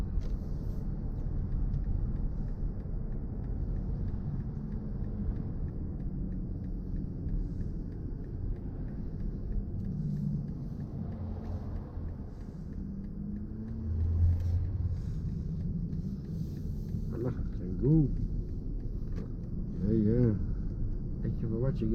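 A BMW i4 M50 electric car is driving, and inside the cabin there is a constant low road rumble and a faint hum. Voices talk briefly over it near the end.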